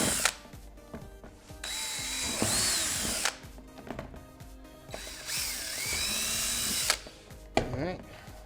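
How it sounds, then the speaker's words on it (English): Close power drill with a 3/16-inch bit whining in several bursts as it bores through a plastic panel, pitch rising and falling under load, with clicks and handling noises between runs. "we're going to use a 3/16 bit and drill those out"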